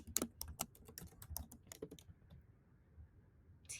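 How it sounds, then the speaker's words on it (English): Typing on a computer keyboard: a quick burst of close, crisp key clicks for about two seconds, then quiet, with one more cluster of taps at the end. "So I'm going to type that in."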